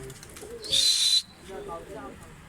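Tumbler pigeons and Dolapçı pigeons are flown outdoors. A short, sharp, high call sounds near the middle, followed by softer low cooing notes, with faint voices in the background.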